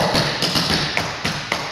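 Clogging steps tap on a floor during a clog dance class, a quick series of sharp close taps and thumps in an uneven dance rhythm, with no talking.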